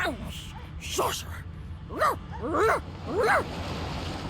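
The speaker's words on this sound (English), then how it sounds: "The dog whines and continues pawing at its nose." A dog in Divinity: Original Sin 2 whines and yelps in several short, rising-and-falling cries spaced about a second apart, close and fairly loud over a low background hum.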